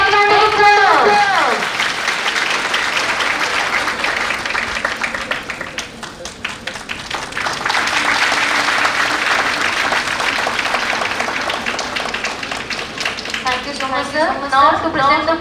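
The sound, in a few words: audience applause at a festival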